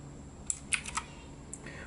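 Keys are pressed on a mechanical RGB backlit gaming keyboard, a handful of sharp, separate clicks at irregular intervals over a quiet room hum.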